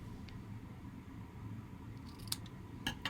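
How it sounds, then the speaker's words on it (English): A pair of scissors snips a ribbon bow on a paper craft card, giving a few quick, faint, close clicks near the end over a quiet room. "take my scissors and I'm just going to give us a little trim on this"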